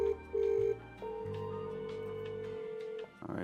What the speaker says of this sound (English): So let's make this phone call together.